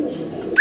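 A pigeon gives a short, close coo on its own, a soft throaty note followed by a brief rising lift at the end.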